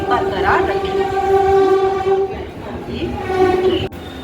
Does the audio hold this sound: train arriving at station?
yes